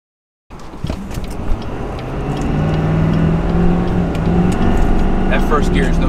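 A heavy GMC Sierra Duramax diesel pickup weighing 14,500 pounds accelerates hard in first gear, its engine droning loudly and steadily after a sudden start, with a voice speaking over the roar.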